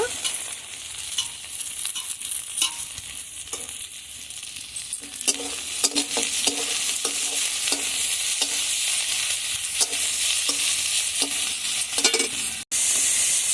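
Cardamom, cinnamon, bay leaf and crushed garlic frying in hot oil, a steady close sizzle with occasional stirring scrapes throughout, no voices.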